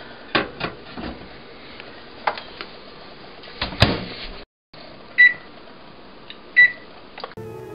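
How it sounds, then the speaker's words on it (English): A microwave oven runs with grapes inside, its steady hum broken by several sharp pops and cracks, a brief cutout and two short beeps near the end; no talking. "did you know that putting grapes in the microwave is the wrong choice?"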